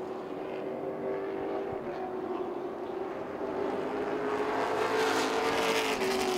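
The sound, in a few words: race cars on a track at Southern National Motorsports Park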